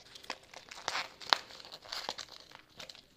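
Crinkly plastic packaging around a pendant necklace being worked open by hand, giving a few soft rustles and crackles with one sharp crisp snap near the middle, quiet and close.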